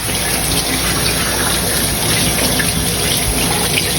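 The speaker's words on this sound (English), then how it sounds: "gotta wash my hands really quick" Water runs steadily from a kitchen tap during handwashing while cooking Cajun-style shrimp scampi, a continuous close hiss that is heard alone with no talk.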